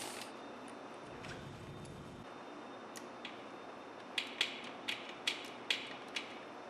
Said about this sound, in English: Remove the sensor hex nut.